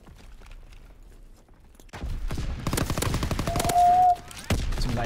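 Rapid bursts of gunfire from a Call of Duty multiplayer Hardpoint match, loud and dense after a quieter opening, with repeated sharp shots clustered through the second half.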